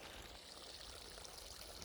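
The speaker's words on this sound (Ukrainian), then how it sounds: "Я зараз запустив води. Ось в мене вода потічна, між іншим. Заходить в ставок" Water flows steadily into a garden fish pond, a faint, continuous trickling and splashing rush heard alone with no talk.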